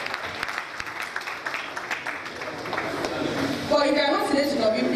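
Applause from an audience at a school tablet event, a broad steady patter of clapping that swells louder toward the end while a voice talks over it.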